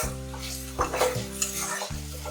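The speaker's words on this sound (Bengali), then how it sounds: "এখন এই মশলাটা কষিয়ে নেব।" Spice paste for potol dolma, with coriander and chili powder, sugar and salt, sautéing in a pan: a close sizzle broken by a few spatula scrapes and stirs against the metal.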